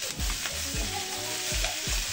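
Tofu being mixed and fried in a pan, a steady loud sizzle of hot oil broken by several scraping, stirring strokes at regular intervals.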